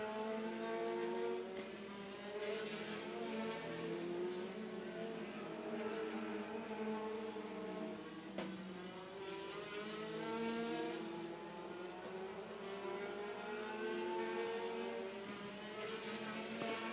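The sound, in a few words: midget race cars racing around speedway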